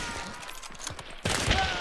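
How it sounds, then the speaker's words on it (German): Gunfire in the video game Hunt: Showdown comes as a sudden loud burst near the end, after a quieter stretch with soft low thumps. "Wo kam der Schuss her?"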